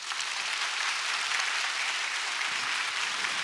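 Continuous, even applause from an audience after a university public science lecture in Seoul, a steady wash of many hands clapping at moderate loudness with no voices.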